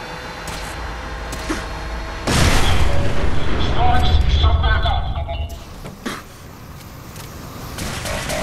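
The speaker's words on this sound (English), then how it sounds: "oh god, I'm in explosion range." Explosions and gunfire in the video game Fallout 4, a dense barrage of booms and shots that swells loudly for a few seconds and then fades, with game sounds and a voice around it.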